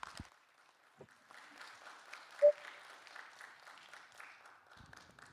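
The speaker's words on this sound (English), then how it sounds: "So if we can give all of us a hand of applause for participation." Light, scattered applause from a small workshop audience at an international conference, fairly quiet and steady for several seconds with a brief louder tone midway.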